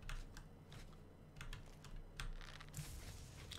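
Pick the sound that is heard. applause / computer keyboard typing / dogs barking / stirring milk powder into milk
computer keyboard typing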